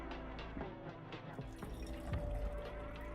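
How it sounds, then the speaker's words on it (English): Liquid drains and drips while a drink is poured in The Red Strings Club, a quiet watery trickle with small irregular drips over a low background hum. "It's a weird draining sound."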